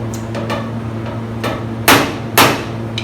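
A hammer knocks on a car body being prepped for paint: a few light taps followed by two loud, sharp metallic strikes, close by, over a steady low hum.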